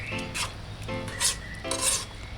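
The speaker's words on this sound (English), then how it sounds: "Use a spoon. Push the herb down." A spoon scrapes and swirls around inside a pot of boiling herbs, pushing them down in a few slow strokes, quiet and close, with faint bubbling beneath.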